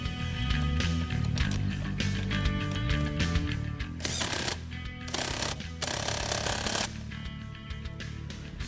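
A steering wheel bolt on a 2015-2017 Ford Mustang is driven in by a power tool, loud rattling bursts of ratcheting and whirring close up, with pauses and several sharper separate bursts.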